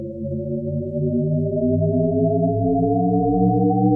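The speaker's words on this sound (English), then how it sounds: "This is something called the shepherd's tone." A Shepard tone plays alone: stacked pure tones glide steadily upward in pitch for about four seconds, creating the illusion of an endlessly rising pitch.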